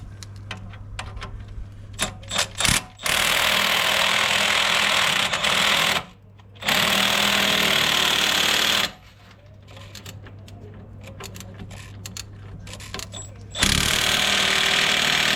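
Power tool whirring in bursts while tightening bolts on a Honda Civic front spring assembly, loud buzzing runs broken by short pauses, close up, with a little faint talk in the gaps.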